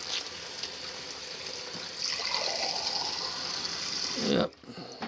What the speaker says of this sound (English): You can hear the tap running, can't you?